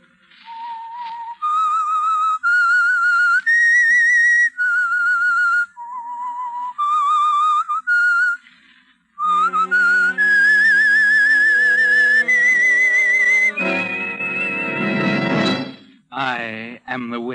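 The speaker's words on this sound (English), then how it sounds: "That whistle is your signal for the Signal Oil Program," The whistled theme signal of The Whistler radio show: a lone, eerie melodic whistle in several rising and falling phrases, loud and close, swelling into an orchestral musical sting at the end.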